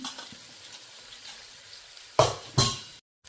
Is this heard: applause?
no